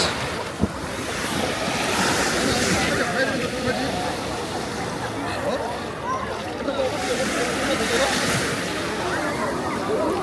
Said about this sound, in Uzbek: Ana sizlarga dengiz suv.